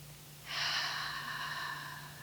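One slow, deep breath drawn in audibly after a short pause, a soft airy rush that fades gradually, quiet and close with a faint steady hum underneath.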